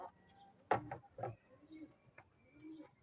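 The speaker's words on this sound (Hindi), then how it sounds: "ये है, ये एक जोड़ी ये कबूतरों की है माशाल्लाह" A few soft, low coos from a pigeon, close by, with brief wing-like flutters and small knocks between the calls.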